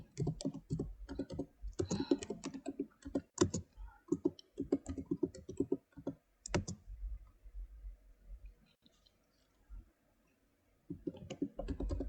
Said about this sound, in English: So just type on a blank.